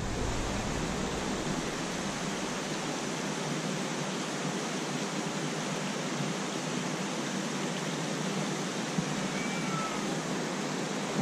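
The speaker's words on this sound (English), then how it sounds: "This is how we drain the dam." Water rushes out of a dam as it drains, a loud, steady, broadband roar that continues without a break and without voices.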